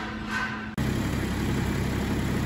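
A BMW 730D diesel with a faulty fourth-cylinder injector idles steadily after a brief cut at the start, its low, even clatter fairly faint and continuous.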